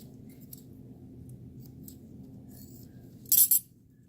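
A short double snip of scissors cutting through a layered bandage on an arm, brief and close, standing out from a quiet room hum.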